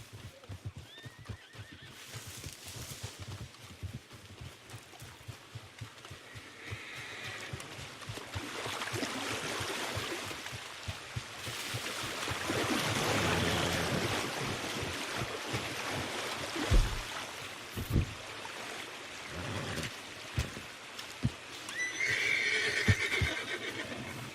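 Horses in Red Dead Redemption 2 Online whinny and neigh over a steady clatter of hooves, growing louder toward the end, with a broad rushing noise behind.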